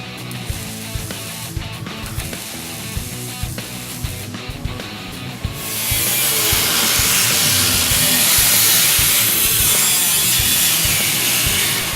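A power saw cuts through the rear seat side structure of a Mustang, a harsh rhythmic rasping that turns into a louder, denser continuous grind partway through, close and with no voices.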